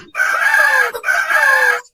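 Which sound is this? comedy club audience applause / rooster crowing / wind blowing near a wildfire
rooster crowing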